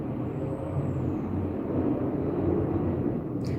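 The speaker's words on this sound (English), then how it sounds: "I hear a plane" A plane passes overhead as a steady, broad, moderately loud rumbling drone that holds throughout without a break.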